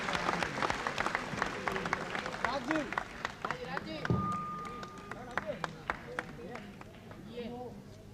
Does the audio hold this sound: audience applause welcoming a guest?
yes